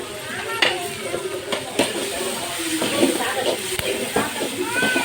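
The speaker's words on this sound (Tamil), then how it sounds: "தக்காளி நல்லா வதங்கட்டும் ஃப்ரெண்ட்ஸ்" Tomatoes sautéing with rock salt in a pan for a lake murrel fish curry, giving a soft, steady sizzle with light stirring scrapes, close by and under continuous talk.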